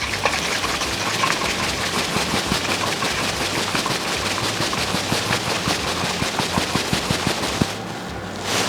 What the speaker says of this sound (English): So I'm gonna give it a really good shake right now.